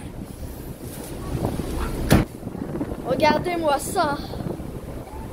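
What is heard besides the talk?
strong wind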